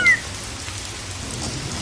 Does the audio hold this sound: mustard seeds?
no